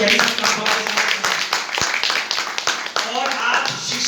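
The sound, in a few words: audience clapping at community yoga day event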